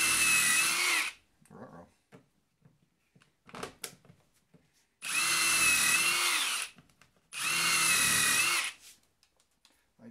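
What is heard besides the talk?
power drill driving a screw into a wood bending form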